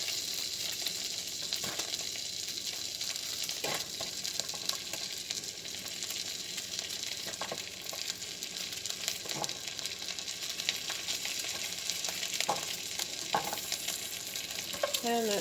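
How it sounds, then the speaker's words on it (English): Onions frying in melted fat in a pan give a steady, close sizzle, with occasional scrapes and knocks as they are stirred; no talking. "I'm going to throw some onions in here."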